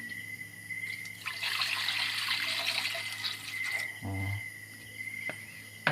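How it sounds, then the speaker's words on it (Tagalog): Water running from a tap, a steady hiss that swells for a couple of seconds and then stops, with a thin insect-like whine continuing in the background. "Tubig oh."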